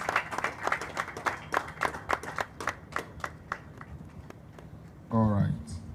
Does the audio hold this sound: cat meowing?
no